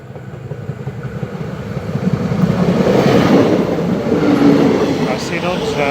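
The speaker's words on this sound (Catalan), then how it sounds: "ens arriba aquí a la boca nord del túnel de Toses, a l'últim tren del migdia" A train rumbles loudly nearby as it leaves the north portal of the Toses tunnel, its heavy rolling noise building over a few seconds and staying steady.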